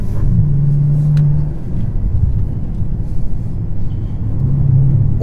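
A Bentley Continental GT Supersports carries a deep, steady engine rumble as it drives along winding roads, swelling slightly near the start and end.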